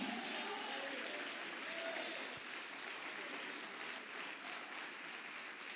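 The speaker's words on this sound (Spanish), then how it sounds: "denle un aplauso a Dios" A church congregation claps together in sustained applause that fills the room evenly, with faint crowd murmur beneath and no words.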